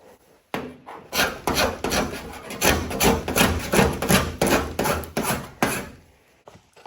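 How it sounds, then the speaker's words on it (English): A hand scraper strips body filler off the bare steel of a car bonnet in a series of rough, rasping strokes, about a dozen close, loud scrapes in quick rhythm. "Watch how easy this scraper takes it off."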